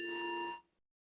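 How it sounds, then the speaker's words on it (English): A single struck meditation bell opens a shared meditation during a worship service, ringing one clear, sustained, bright tone that fades out cleanly into silence, with no voices. "And now I invite you again into the sound of this bell."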